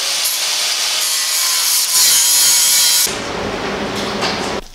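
Sawing through a part while fitting a large ETS intercooler to a Supra: a loud, steady rasping cut that lasts about three seconds, then gives way to lower grinding and rubbing noise.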